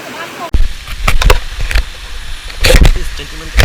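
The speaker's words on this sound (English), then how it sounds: "I've never seen like really big waterfalls like this before." Large waterfall and stream on a jungle hike up Bukit Saga toward the Apek waterfalls, a steady broadband rush of falling water running throughout, with people talking over it nearby.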